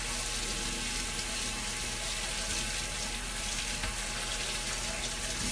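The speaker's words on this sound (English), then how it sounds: "Let me just wash my hands because I got the garlic on there." A kitchen tap runs steadily while hands are washed after handling garlic, a continuous close hiss and splash of flowing water with no talk.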